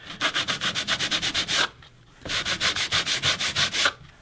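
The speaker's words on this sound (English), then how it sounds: "just to lightly sand that down" Rhythmic back-and-forth sanding strokes with a sanding block, lightly smoothing glue off a pool table cushion rubber, close and steady, in two bursts separated by a short pause.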